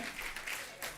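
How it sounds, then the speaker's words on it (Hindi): Studio audience on a Hindi comedy talk show bursts into applause, a dense wash of clapping held at steady loudness through the moment with a small lift near the end. "एक बार जोरदार तालियां तापसी और ताहिर के लिए।"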